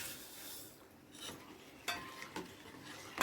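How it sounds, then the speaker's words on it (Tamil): A spoon stirs country sugar into coconut milk for appam, making soft close swishing with a few light clinks and a sharper clatter at the end. "அதில் டேஸ்ட்டுக்கு நாட்டு சக்கரை போட்டு கலந்துக்கணும்."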